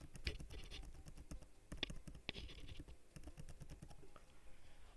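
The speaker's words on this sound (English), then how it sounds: "It's me hitting my keys." Rapid, uneven keystrokes on a computer keyboard clatter throughout at close range, with no talking, while someone plays a Build A Boat for Treasure game.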